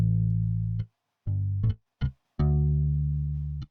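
Synthesized bass from the MODO Bass plugin using flat wound strings plays a sustained low note, a few short plucked notes, then a long held note, with a warm, rounded tone and nothing else in the background.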